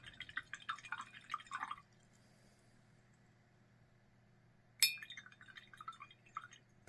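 Water trickles and drips while an empty white pen is rinsed out. The sound is quiet and close, comes in two short spells with near silence between them, and has a sharp tap at the start of the second spell.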